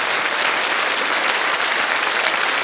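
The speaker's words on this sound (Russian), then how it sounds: "Можно погромче похлопать," Dense, loud applause fills a television studio audience at a comedy show, a steady wash of many hands clapping together with no voices over it.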